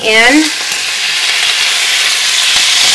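Beef and bacon fry loudly in a pot for beef bourguignon, a dense close-up sizzle with a brief high squeak at the start and occasional utensil knocks as it is stirred.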